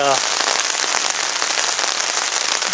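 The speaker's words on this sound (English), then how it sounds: "you can see the wind's picking up, the rain is picking up, and the weather's starting to turn for the worse" Storm wind and rain beating on a camping tarp make a loud, dense, steady hiss and patter that fills the whole stretch close at hand.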